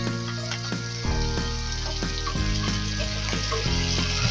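Canned corned beef sizzles steadily in a hot pan for ampalaya con carne, a dense continuous fry with soft stirring scrapes and small pops, close and loud.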